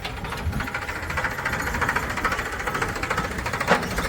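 A steady tractor engine chugs and knocks throughout, a low rhythmic thumping with rattling vibration, close by and continuous, no talking.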